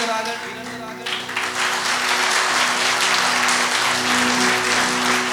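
A church congregation claps hands loudly at a sermon, a dense, steady wash of applause that swells after the first second and holds for several seconds with some voices mixed in.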